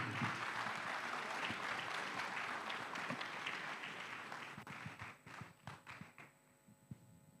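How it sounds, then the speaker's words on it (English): Audience applause at a conference closing ceremony, a dense steady clapping that gradually thins into scattered individual claps toward the end. "Another round of applause for all our winners."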